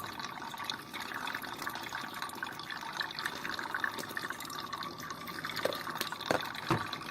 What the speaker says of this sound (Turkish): Daha pis suyumuz geliyor.